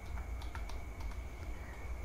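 Quick, steady clicking of keys on a computer keyboard, close and moderately quiet over a constant background hum, with no talk.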